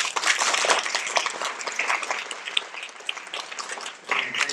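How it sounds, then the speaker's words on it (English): An elementary school audience at a fifth-grade stage performance applauds, a dense, sustained wash of many hands clapping that dips slightly midway and swells again at the end. "Give yourselves a round of applause."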